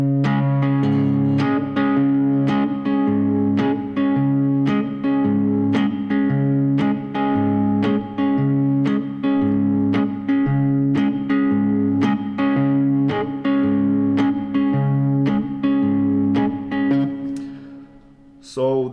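Electric guitar playing a riff with a shuffle feel, steady plucked notes over a sustained low bass line in a lilting uneven rhythm, close and continuous for the whole stretch.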